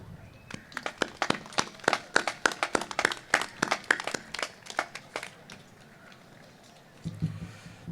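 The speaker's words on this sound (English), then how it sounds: "Please give a round of applause to them." Scattered clapping from a small outdoor ceremony crowd at a Let Freedom Ring bell-ringing event: a sparse, irregular patter of hand claps that thins out and fades after several seconds, leaving low background noise.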